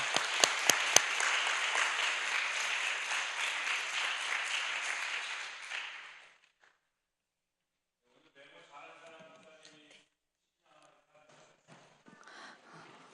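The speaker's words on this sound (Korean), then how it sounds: "우리 큰 박수로 환영하겠습니다" A school audience breaks into loud, dense applause for about six seconds with a few sharp individual claps, then it stops abruptly and gives way to quiet, scattered talking.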